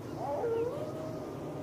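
A dog howls in a radio drama set near a coast, a single drawn-out wavering howl sounding faint and distant over a steady background hiss, with no talking.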